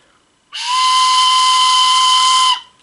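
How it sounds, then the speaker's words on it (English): Origami paper whistle of the Pito Que Pita design blown in one sustained, loud, piercing tone of about two seconds, steady in pitch, bright and hissy at the edges, with no talking over it. "So you can tap right here and it changes the sound."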